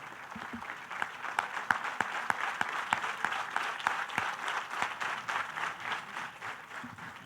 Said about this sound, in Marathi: या पडणाऱ्या टाळ्या